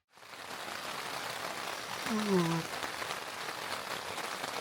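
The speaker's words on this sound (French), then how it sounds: "Je me réveille sous la pluie battante." Steady, dense rain pours down throughout, a constant broadband hiss with a brief low vocal sound partway through.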